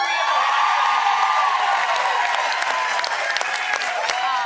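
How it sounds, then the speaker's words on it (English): Studio audience cheering and applauding at a festive talk-show taping, steady broadband clapping with scattered whoops filling the whole stretch, loud and continuous. "We are cheering because it happens to be the one-year anniversary of"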